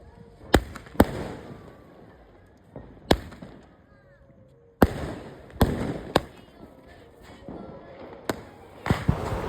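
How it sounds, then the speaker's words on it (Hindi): Diwali fireworks and rockets going off, a series of sharp loud bangs and cracks spaced irregularly with whistling rocket sounds between them, with people's voices murmuring in the background. "फिर ये दोनों रॉकेट चलाने लग गए"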